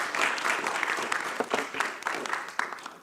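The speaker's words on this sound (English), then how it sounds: "Big round of applause." Audience applause at a global climate change challenge finals ceremony, a steady patter of many hands at moderate distance, with individual sharper claps standing out as it begins to thin.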